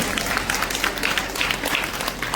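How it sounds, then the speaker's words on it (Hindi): Loud, dense applause from a seated crowd at a felicitation ceremony for a Mahant at a Sanatan Kumbh gathering of saints, continuous clapping without pause and no voices on top. "ताली तो जोरदार महाराज जी के बजा दो।"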